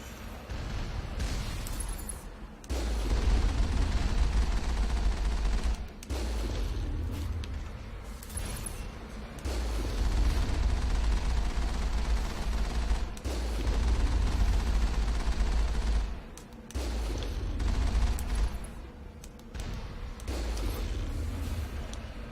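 Bursts of gunfire against rocket turrets in the game Mass Effect, several sustained volleys broken by brief pauses, loud and dense with booming impacts, with no talking.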